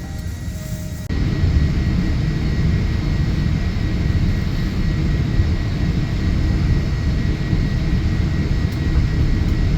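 Airplane jet engines roar steadily and loudly from inside the cabin while taxiing at LAX, a constant broad rumble that swells after the first second.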